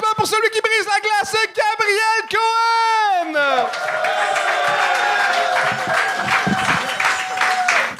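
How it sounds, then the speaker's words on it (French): Studio audience at a comedy competition show bursts into sustained applause and cheering for a contestant, following a host's loud announcing voice; the clapping stays dense and steady to the end. "Un tonnerre d'applaudissements pour celui qui brise la glace"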